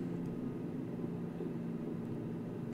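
A combustion centrifuge in Stationeers throttles down, giving a steady low mechanical drone with a constant hum and airy noise, even and unbroken, with no voices.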